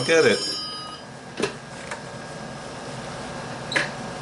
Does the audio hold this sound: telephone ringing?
yes